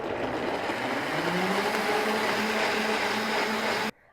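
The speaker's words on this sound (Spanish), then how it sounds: "Entonces ya vamos a empezar a licuar estos ingredientes." A blender purees onion, garlic and consommé with a loud, steady whir whose pitch climbs slightly. The motor cuts off abruptly just before the end.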